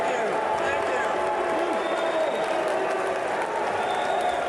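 A large Utah state convention crowd boos steadily throughout, a dense, continuous roar of low jeering voices with scattered handclaps mixed in.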